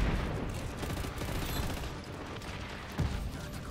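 Shelling and gunfire at a military base in the video game Just Cause 3, a dense continuous rumble of explosions and rapid fire with a sharper blast near the end, loud and without talk.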